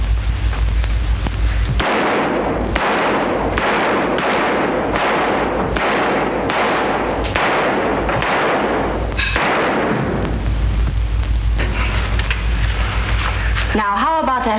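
Rapid, evenly spaced gunshot effects ring out in an old variety show, a long string of sharp loud bangs with a brief gap before a final burst, and voices speak over them.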